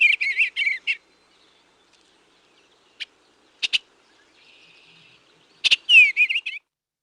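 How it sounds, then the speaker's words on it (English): Eastern bluebird song recorded in grassland habitat along the Detroit River: several short bursts of soft, warbling whistled phrases with quiet gaps between them, clear and fairly close, with no talk. "here's the eastern bluebird, and this is what it sounds like"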